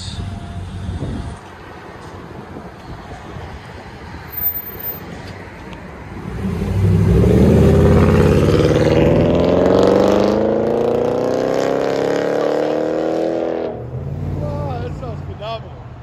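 Rumbling 2012 Jeep Grand Cherokee 5.7L HEMI V8 with Carven TR-Series true dual exhaust, heard from inside the cabin: a steady idle burble swells into a loud, rising acceleration roar with climbing harmonics, then drops back to a low drone.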